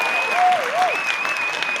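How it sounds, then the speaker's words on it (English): A burst of clapping applause, with a wavering whistle-like tone sliding over it. "I give you guys a round of applause."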